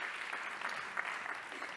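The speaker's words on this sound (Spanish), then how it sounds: "Vaya el aplauso para Bannister, que sigue vivo." Audience at a motivational talk applauding for Bannister: a brief, dense burst of steady clapping from a large crowd, continuous and fairly distant-sounding throughout.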